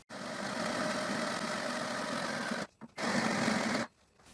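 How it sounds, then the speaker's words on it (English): An 8mm bit drilling a bevel into a wine barrel's metal hoop, heard as a steady close whirring drone in two bursts, the second shorter, with a brief pause between them. "And now, with an 8mm drill bit, I drill a bevel."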